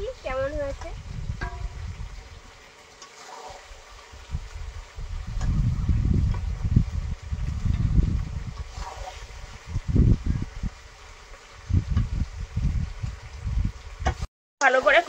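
Chicken curry being sautéed in a pan over a clay stove, with irregular bursts of stirring and scraping and a soft sizzle underneath. The sounds rise and fall in uneven clusters.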